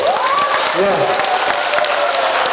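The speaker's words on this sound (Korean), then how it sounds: "나는 2번 했으면 좋겠다는 박수를 치셔야 돼요." An audience at a laughter-yoga health lecture at an integrative medicine expo in Jangheung claps in a brisk, continuous burst while voices call out over the applause.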